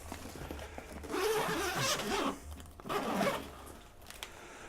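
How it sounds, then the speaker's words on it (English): A backpack zipper is pulled open in two strokes, close and crisp, with a brief pause between them. "So we find the zipper"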